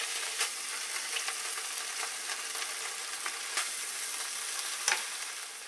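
Ham fries in a pan with a continuous bright crackling sizzle, punctuated by a few sharper pops and spatters, heard up close without any speech.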